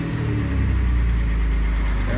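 An old Dodge Dakota pickup idling just after a distributor cap and rotor change, a close, steady low engine rumble with a slight uneven pulse and a person talking over it.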